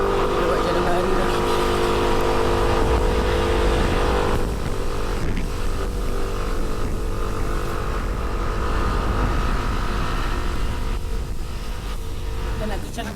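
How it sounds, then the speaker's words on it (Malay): Vehicle engine running steadily on a road on the way to Teluk Nipah, Pangkor Island, a continuous close drone with a shift in tone partway through. "Kita nak tercampur dah bunyi enjin sendiri."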